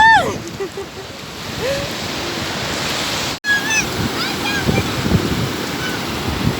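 Sea waves washing in at Lingayen beach, a broad steady surf wash with wind noise, heard close under people talking and calling out.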